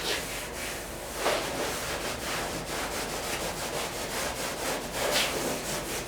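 Sandpaper is rubbed by hand over a part from a 1959 VW single-cab pickup under rust restoration. Rhythmic, close scratchy strokes repeat steadily, with no voices.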